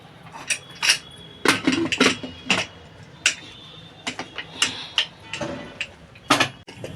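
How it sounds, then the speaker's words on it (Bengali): Metal clinks and knocks as a pressure cooker with water and taro is set up on the stove: scattered sharp taps and clanks at an irregular pace, close by, over a low background hum. "কুকারে জল নিয়ে নিয়েছি আমি এবার সিদ্ধ বসিয়ে দেবো"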